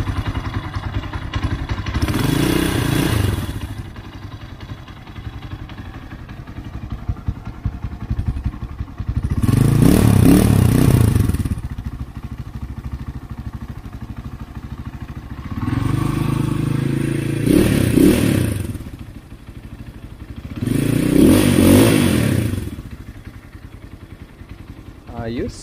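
Rusi KR250 Super Motard motorcycle engine being revved near the listener: four loud throttle blips rise and fall over a steady idle, spaced several seconds apart, with no talking.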